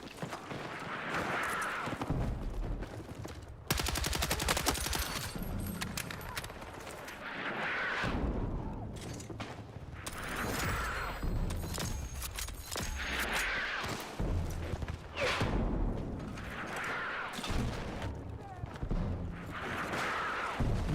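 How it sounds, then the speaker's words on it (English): Mortar blasts and rattling gunfire from a Battlefield 6 Season 4 battle keep pounding for the whole stretch, with dense, booming bursts, one especially heavy barrage early on, and chaotic overlapping shots throughout. "the mortar fire is insane"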